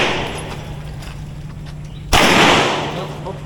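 A single sharp gunshot at an outdoor firing range in Norzagaray, Bulacan, sounding loud and close right after a range command, with a brief reverberant tail and faint background voices around it.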